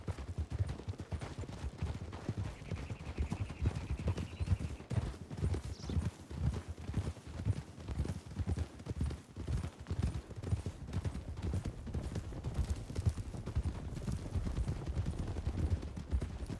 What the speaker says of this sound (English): Trying to remember what breed of horse he was on. It was a foxtrotter,